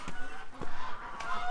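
Small ducks near a feeding spot with pellets give a few short honking quacks spread across a brief moment, moderately close, with no talk over them.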